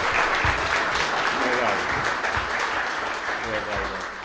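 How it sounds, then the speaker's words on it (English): An audience at an Africa summit panel discussion applauds the panelists, loud close dense clapping continuing steadily and tapering slightly at the end, with talk mixed in. "Can we applaud the panelists?"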